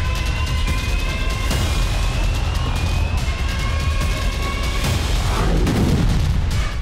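CCTV-captured rocket strikes on Haifa: a dense, continuous roar of rumbling blasts and booming noise, loud and unbroken throughout, with no voices.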